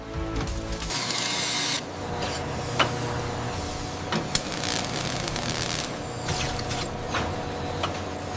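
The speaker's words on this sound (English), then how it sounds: "the edges of both half shells are perfectly aligned in the automatic trimming machine" An automatic trimming machine works the edges of LPG cylinder half shells in a factory, giving a continuous mechanical whir and grinding with scattered metallic clicks and creaks.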